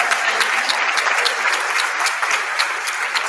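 Sustained applause from a conference audience at a digital inclusion event, dense steady clapping filling the room at even loudness throughout, with no voices on top.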